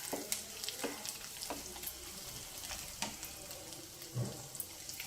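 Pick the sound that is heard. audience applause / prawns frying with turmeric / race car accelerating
prawns frying with turmeric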